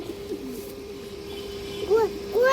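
Domestic pigeon of an old pure-bred line cooing close by, a couple of soft rising-falling coos near the end over a steady tonal hum and light background noise.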